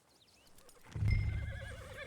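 A horse in Red Dead Redemption 2 gives a loud, wavering whinny up close, rising after a soft lead-in, with faint hoof clip-clop beneath it.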